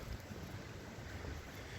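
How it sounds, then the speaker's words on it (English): Wind blowing outdoors at a work site, a steady, broad rush buffeting the microphone with low rumbling gusts and no talking. "Thank goodness it's windy out here today."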